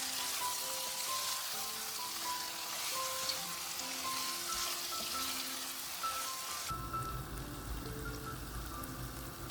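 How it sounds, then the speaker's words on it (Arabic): Garlic frying in a pan alongside chicken and pasta ingredients gives a steady, bright sizzle that fills the whole stretch. A low mechanical hum joins in near the end. "ونخلي الثوم يتحمر عشان تطلع ريحته"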